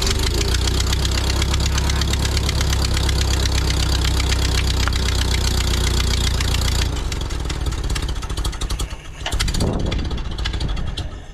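Old Ford 9N tractor engine, more than 80 years old, running loudly and roughly with a steady knocking drone that falters and drops out near the end as it floods.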